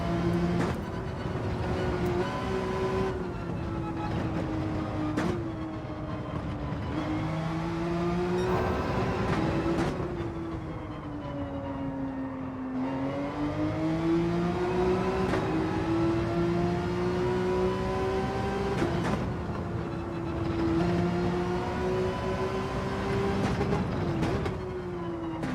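A race car in Gran Turismo 7 drones steadily through a lap, engine pitch rising and falling with throttle and gear changes, sharp shift blips punctuating a continuous, fairly loud mechanical whine.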